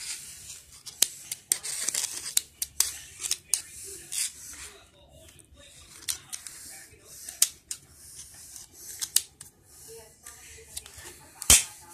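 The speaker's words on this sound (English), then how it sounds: "Dang, the scissors tore that up." Scissors snip and squelch through slime in a series of sharp, irregular cuts and smacks, some loud and close, with quieter sticky handling between them.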